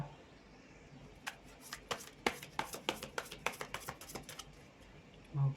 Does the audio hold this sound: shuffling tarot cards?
yes